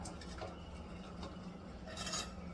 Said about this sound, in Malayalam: പച്ചമുളക് ഇട്ട് കൊടുക്കുന്നു എല്ലാമേ അങ്ങോട്ട് ഇട്ട് കൊടുത്തിട്ട് നന്നായിട്ട് ഇളക്കുന്നു